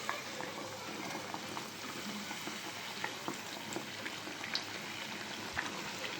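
Rice flour ariselu sizzle in hot oil with a soft, steady bubbling hiss and scattered faint pops, quiet and close, with no talk.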